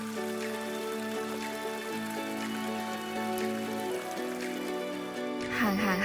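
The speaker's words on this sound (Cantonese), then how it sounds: "行下無啦啦落雨" Sudden rain falling in Berlin city centre, a dense steady patter that stays loud throughout and ends in a brief burst of other noise.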